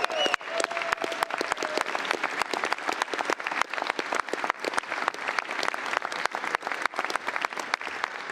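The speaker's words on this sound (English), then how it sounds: "You got to hold your applause." A political crowd applauding a speech by the House Speaker, with dense, loud, continuous clapping and a few sharp individual claps sustained throughout.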